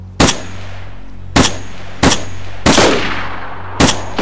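Gunshots in the survival video game DayZ, five loud separate reports spaced about a second apart, each sharp crack followed by a short ringing decay over a steady low hum.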